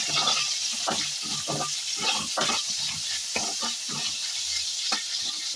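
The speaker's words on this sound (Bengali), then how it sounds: "কড়াইতে তেল গরম করে নিয়ে প্রথমে কিন্তু করলাগুলোকে ভেজে" Lightly salted bitter gourd pieces fry in hot oil in a wok, a close, loud sizzle broken by repeated stirring clatters and scrapes in an uneven rhythm.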